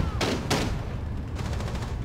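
Two sharp, loud gunshot bursts in Rainbow Six Siege, fired close together near the start, followed by a quieter rattle of rapid shots toward the end.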